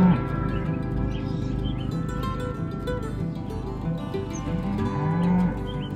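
Cattle lingering around an RV campsite in a mountain national forest low repeatedly, with loud, drawn-out moos close by and faint birdsong in the background.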